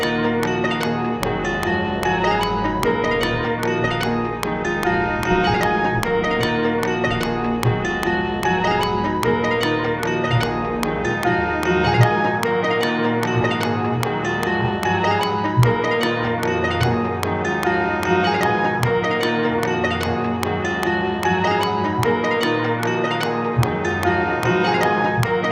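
A layered synth pad built in Studio One Pro 7, with a small background layer that makes it sound more ominous. It sustains thick and dense through a full music loop, steady and loud, with regular rhythmic pulses throughout.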